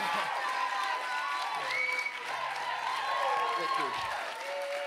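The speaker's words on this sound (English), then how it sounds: "that was a big round of applause, one of the biggest ones I've ever had" An open-mic poetry audience applauds and cheers in a continuous wash of clapping and crowd noise, with a voice speaking briefly over it.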